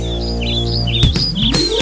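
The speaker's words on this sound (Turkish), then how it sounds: "Aldım onları içeriye Cik cik cik ötsünler diye" Small birds chirping in a children's song: quick high tweets over a sustained musical backing, getting busier near the end, with no singing.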